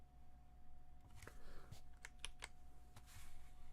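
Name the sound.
computer keyboard typing near microphones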